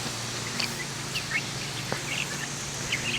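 Two-week-old meat chickens chirp while eating, small scattered peeps rising faintly over a steady low background hum.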